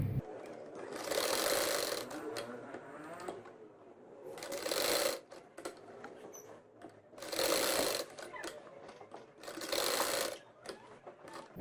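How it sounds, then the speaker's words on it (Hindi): Four bursts of rapid stitching from a sewing machine as it sews a poncha (mohri) pant cuff, each lasting about a second, with short quiet pauses between runs. "चलिए अब सिलाई लगाते हैं।"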